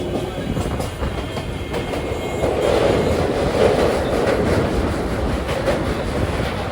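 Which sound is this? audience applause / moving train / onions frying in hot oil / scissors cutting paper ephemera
moving train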